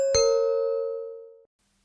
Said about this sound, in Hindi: उसी वक्त दरवाजे की घंटी बजी